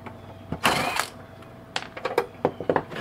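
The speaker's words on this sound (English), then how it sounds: "I'm just going to start taking screws out" Screws being backed out of a Cisco ASA 5510 cover with a screwdriver, a close burst of whirring and a rapid series of small ratcheting clicks and metallic ticks.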